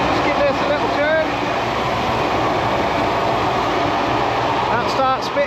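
Tractor PTO driving a wheat seed drill, parked with the handbrake on, a steady loud mechanical drone and rumble running throughout with faint squeaks, with a person talking over it.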